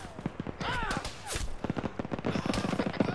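Friendly gunfire in the video game Arma 3 comes as irregular cracks and short bursts over a busy battlefield, with whistling, sweeping tones partway through and a voice speaking briefly among the shots.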